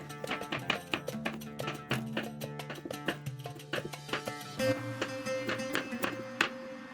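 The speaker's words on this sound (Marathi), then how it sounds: "ही गाजर जे आहे ते लहान लहान तुकड्यांमध्ये कापून घेणार आहोत" Quick, steady knife chops cutting carrots into small pieces on a cutting board, a run of sharp taps under background music that shifts partway through.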